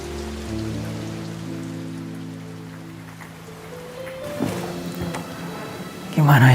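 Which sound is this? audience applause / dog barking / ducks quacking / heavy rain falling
heavy rain falling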